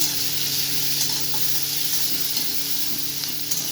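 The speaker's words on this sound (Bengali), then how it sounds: "পেঁয়াজ দিয়ে দেবো পেঁয়াজটা ভালো করে ভেজে নেবো" Onions fry with a bay leaf and whole spices in an oily pan, giving a loud, constant close-up sizzle with faint stirring clicks and no voice.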